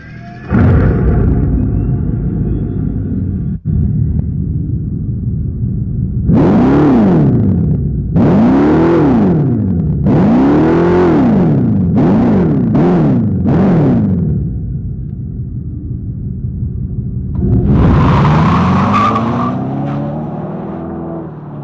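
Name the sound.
2024 Dodge Charger Daytona Scat Pack Fratzonic chamber exhaust sound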